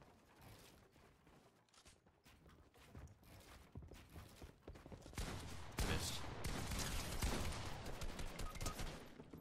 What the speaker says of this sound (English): I missed two shots with a shotgun